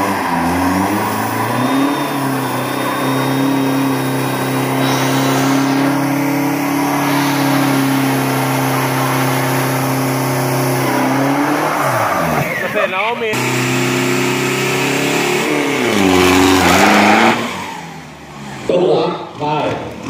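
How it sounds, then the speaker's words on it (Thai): Big-turbo Ford pickup launching in a 402 m street-class drag race, its engine roaring loud and sustained as it accelerates, with audible gear changes and a crowd and announcer talking throughout. "คันนี้จาก GT Pro ครับรถบ้านครับเทอร์โบใหญ่ครับของ Ford ครับ"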